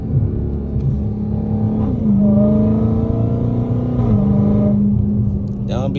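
A supercharged Dodge Charger Hellcat accelerates hard, a loud, close engine roar under a rising supercharger whine that climbs in pitch, dips at a shift, then climbs again, with a voice talking over it.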